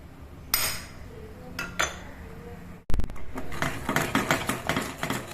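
A spoon clatters and scrapes against a metal pot while stirring custard mixture of custard powder and boiled milk, with sharp clinks early on, then a loud knock and a run of rhythmic scraping strokes.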